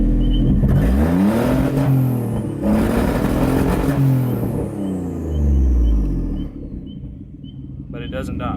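Greddy twin-turbo Nissan 350Z with a clutch problem revving repeatedly in rising and falling sweeps, loud and close, engine idling low between pulls.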